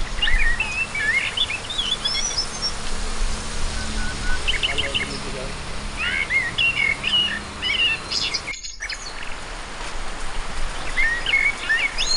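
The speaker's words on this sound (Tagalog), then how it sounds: "Grabe ulan mga kaibigan, no?" Steady rain falls throughout a long, wet spell during the July rainy season, with birds chirping and calling in bursts over the constant patter, one brief break in the sound near the end.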